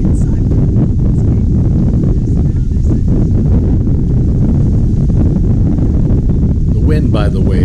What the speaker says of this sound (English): it was very windy up there, as you can see and hear.